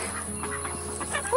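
Farm ducks in a mixed flock kept alongside chickens call and quack in short, overlapping bursts, fairly close and steady throughout, with no talking.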